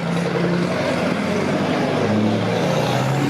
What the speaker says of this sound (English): got a loud muffler on that thing